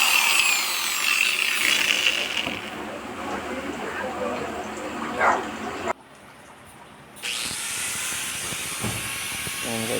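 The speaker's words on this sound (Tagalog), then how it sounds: "I-grind natin siya." An angle grinder cuts into a broken selfie stick tripod part, a loud continuous rasping whine with dog barking in the background and a brief pause midway before the grinding resumes.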